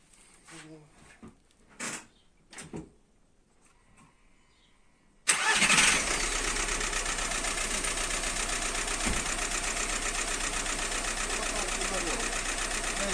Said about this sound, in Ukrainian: звук двигуна не той, так тобі таке відчуття, як щось підстукує